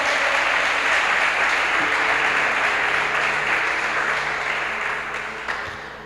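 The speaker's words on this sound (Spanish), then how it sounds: "Dale un fuerte aplauso a Dios" A church congregation at a Spanish-language sermon claps loudly in praise to God, a thick, sustained wave of applause that slowly tapers over six seconds while a faint low tone hums underneath.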